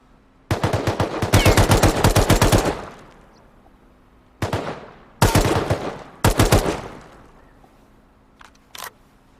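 Automatic gunfire in a Rust PvP fight: a long sustained burst, then two shorter rapid bursts and a faint distant shot, each loud and close, with quiet gaps between.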